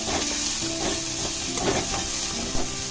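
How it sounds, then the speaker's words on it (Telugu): Chicken filling sautés in a pan with soy sauce while a spatula stirs it, giving steady close frying sizzle with soft scraping throughout, no voices. "దీన్ని బాగా సాట్ చేసుకొని కొంచెం సోయా సాస్"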